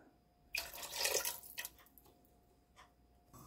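Water poured into a pressure cooker holding squid and sauce for a Korean squid bukkeum, a brief splashing pour up close followed by a few faint drips.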